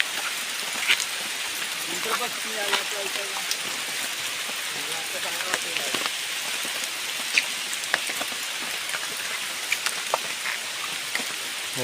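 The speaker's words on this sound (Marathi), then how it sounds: "इकडे जरा पाऊस कमी लागता झाड असल्यामुळं" Steady rain patters down outdoors on a hilltop plateau, partly sheltered beneath a tree, with dense drops and occasional louder drips throughout, while a voice speaks quietly underneath.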